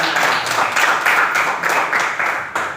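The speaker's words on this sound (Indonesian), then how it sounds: "Ya, tepuk tangan buat Cinta Juliana." A classroom of students claps for their classmate Cinta Juliana during a lesson, a lively burst of many hands that keeps a fairly even rhythm before fading near the end.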